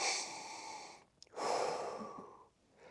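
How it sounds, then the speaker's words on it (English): Slow, deep breathing during a lower back stretch: a long airy exhale, a brief pause, then a long inhale, close and soft, with no talking. "doing some deep breathing"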